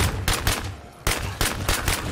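Gunfire in the zombie game State of Decay 2, heard as short, sharp bursts repeating at a quick, fairly regular rhythm, fairly close and moderately loud.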